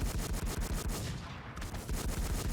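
Steady rapid automatic gunfire in a shooting video game, loud and close, with a rhythmic repeating beat and a brief lull near the middle.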